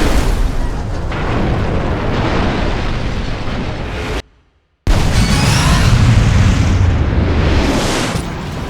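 Car crash explosions in the video game Burnout Revenge: loud booming blasts and crunching impacts, a sharp cut to silence midway, then another heavy explosive rumble that fades slightly at the end.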